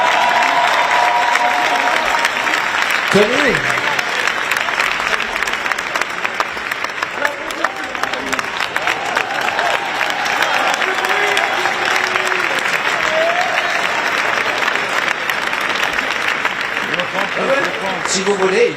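A large crowd applauds loudly and continuously at an outdoor event marking one year until the Paris 2024 Olympics, while someone speaks over the clapping through a microphone.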